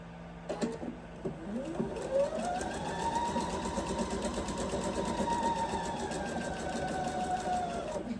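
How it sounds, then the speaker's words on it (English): A sewing machine runs steadily for several seconds, stitching over pins with a rapid mechanical whir that rises in pitch as it speeds up after a few slow starting stitches. "I do sew over my pins"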